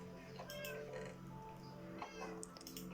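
A cat meows in a Minecraft-style video game, short mewing calls repeated over steady background game music.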